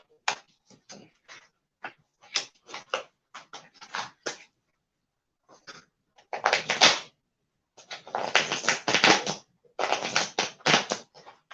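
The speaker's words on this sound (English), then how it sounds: "now that the cards are shuffled" A deck of playing cards is shuffled, first as a run of separate quick snaps and riffles, then as longer, louder bursts of riffling. The sound is close and dry, with no talking.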